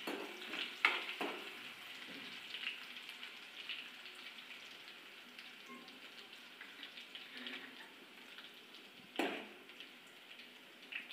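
Curry leaves and crushed garlic fry in hot oil with a faint, soft sizzle and a few scattered crackles and pops, quiet and fairly distant.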